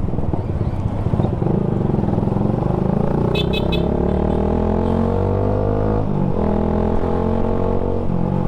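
A Suzuki Gixxer 155fi motorcycle with a manual gearbox runs close by with a steady engine drone, its pitch climbing, then dropping sharply at a gear change before building again, with no talk.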